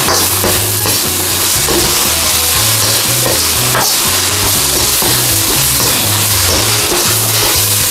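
Beef chow fun noodles with bean sprouts and spring onion stir-fried in a hot pan, a loud continuous sizzle with steady clattering of the spatula against the pan, close and unbroken.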